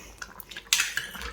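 Chennai style fish curry is stirred gently in a pot, a spoon scraping and clinking against metal in a few light strokes over a soft simmering hiss.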